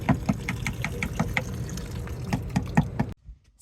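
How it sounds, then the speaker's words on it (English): Water gushes and splashes steadily from a drain opened where the P-trap was pulled to clear a blockage, a rough continuous rush with bubbly spurts that cuts off abruptly. "I pulled the P-trap out, and you guys, it just started gushing"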